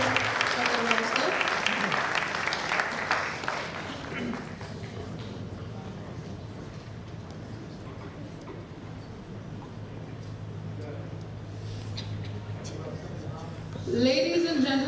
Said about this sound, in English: A huge round of applause for Kartalwar sir.